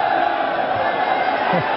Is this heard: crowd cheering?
yes